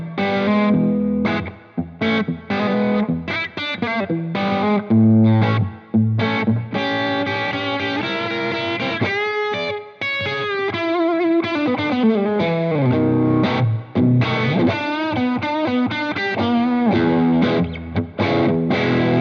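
An electric guitar played through effects pedals into a Strange Audio Electronics Lux Plus amplifier, a distorted, chorus-tinged riff with chords and rapid single-note runs, loud and close and continuing for the whole stretch, with no voices.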